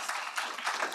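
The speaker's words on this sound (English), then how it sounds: "Please give Jesse a huge round of applause." A symposium audience applauds during a keynote, a brief, fairly faint burst of clapping heard in under a second.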